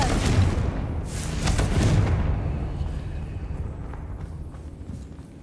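Confringo fire spell cast in the Hogwarts Legacy video game: a loud, booming fiery blast that erupts and then rumbles away over several seconds.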